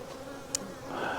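Honey bees buzz steadily around a hive box set up for a new colony, a dense close drone with a single sharp tick in the middle.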